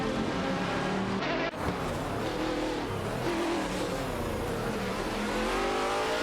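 Video-game racing cars, including Chevrolet Corvette C6.R and Nissan 350Z GT1 racers, roar with loud, continuous engine drones and shifting revs, with one brief dip in the sound early on.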